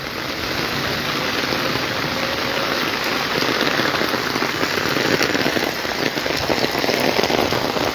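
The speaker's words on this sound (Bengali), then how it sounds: "দেখতে পাচ্ছ প্রচুর বৃষ্টি" Heavy rain pours steadily in Cumilla, a dense, even hiss of drops hitting surfaces that stays loud and constant throughout, with no voices.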